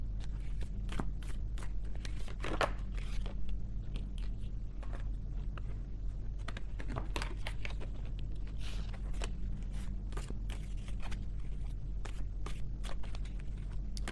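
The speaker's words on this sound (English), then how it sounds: "These cards are so hard to shuffle." Quick, irregular bursts of papery flicking and riffling as tarot cards are shuffled close by, repeating through the whole stretch with no talking.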